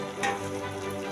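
Cauliflower pieces dropped into a hot pan, giving a brief, steady hiss of frying with a low hum underneath.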